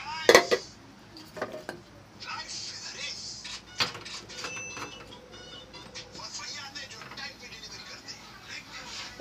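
A tea pot set down on a home kitchen stove, with sharp metallic clanks and scrapes of pots and utensils near at hand, a loud knock early on and a few more clatters, under background talk.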